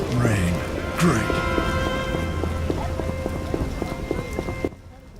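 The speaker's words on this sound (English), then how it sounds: "Rain. Great." Steady rain falls in The Witcher video game, an even wash of patter with occasional heavier drops, lasting nearly the whole clip before cutting out abruptly at the end.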